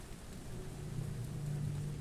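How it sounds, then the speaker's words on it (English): Heavy rain falls in a steady hiss with a low rumble of thunder rolling underneath, fairly quiet and continuous with no voices. "the rain fell in relentless sheets, as if the world outside was drowning"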